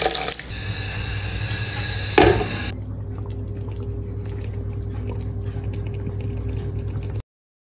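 Water runs from a tap into a cooking pot holding duck, oil and other ingredients, a loud splashing fill for a couple of seconds that then settles into a quieter trickle before stopping.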